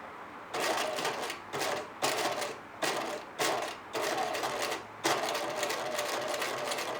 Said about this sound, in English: now continue sewing down the entire binding folded edge.